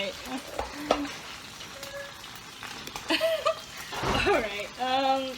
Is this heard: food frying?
yes